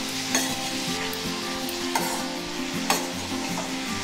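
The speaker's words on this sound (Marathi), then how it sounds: "आता आपण भाजी चांगली ढवळून घेऊया." Ridge gourd curry stirred in a hot pan, a steady close sizzle broken by a few rhythmic scraping strokes of the spoon roughly every second, with no talk.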